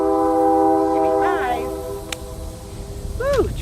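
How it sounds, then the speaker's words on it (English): A train passes near an RV campsite, its horn holding a steady chord before bending away as it sounds again, under a background rumble with voices nearby. "train going through"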